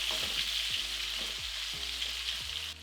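Onions sweat in a frying pan for a paprika chicken dish. A steady sizzle carries throughout, with a few soft stirring scrapes and taps that break off just at the end.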